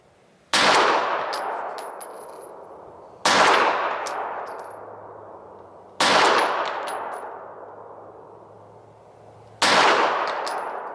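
Four loud rifle shots fired at an outdoor range, evenly spaced about three seconds apart, each a sharp crack with a long decaying echo and faint metallic pings of the target between them.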